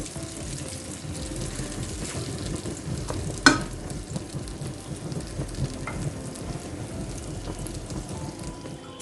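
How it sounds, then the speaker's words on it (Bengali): Steady sizzling of bread frying in butter in a pan, with a soft stir and one sharp clink partway through; no voices. "আমি ডুবে তেলে না ভেজে এভাবে বাটারে ভেজে নিচ্ছি"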